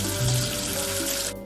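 Running water pours steadily from a tap to rinse soap away, a close, continuous splashing rush that cuts off abruptly near the end.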